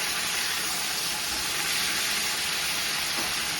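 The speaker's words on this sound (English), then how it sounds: "Want to maintain that sizzling." Steady, loud sizzling of chicken frying in a hot pan, a continuous broadband hiss with no talking.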